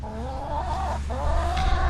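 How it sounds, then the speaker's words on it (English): Hens clucking steadily and close by in a backyard flock of egg-laying chickens, a continuous layered murmur of calls with no talking. "So checking in on the chickens."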